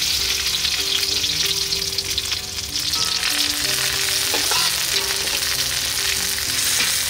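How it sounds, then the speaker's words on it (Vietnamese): Lemongrass frying in hot oil sizzles loudly and steadily in close-up, a dense continuous crackle with faint stirring and some background music tones. "giờ bắt đầu mình cho dầu vô, bắt đầu mình khử xả ngang dưới đây"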